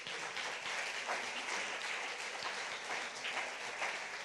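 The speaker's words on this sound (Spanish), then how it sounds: "Denle un aplauso al Señor." Congregation applause in a church service, a continuous wash of many hands clapping, even and sustained for several seconds at moderate level with no voices standing out.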